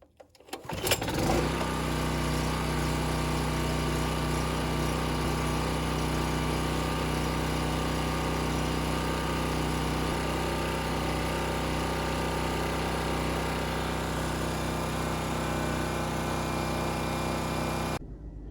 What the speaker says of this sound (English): So it's not too loud, so it's a good generator.